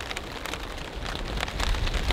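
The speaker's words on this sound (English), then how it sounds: "It's raining again." Heavy rain with large drops falls during a windy winter storm at a campsite, a dense, continuous patter drumming close by on a surface, growing slightly louder toward the end.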